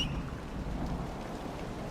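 Rain falls steadily during a thunderstorm in Dragon Age: Inquisition, with a low rumble beneath a dense, even wash of rainfall that stays constant and moderately loud for a moment, with no voices.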